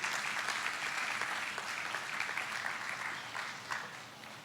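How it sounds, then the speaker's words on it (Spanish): Church congregation applauding during a sermon, a sustained wash of many hands clapping at an even, fairly quiet level with no clear talking over it. "Dele un aplauso al Señor, hermano."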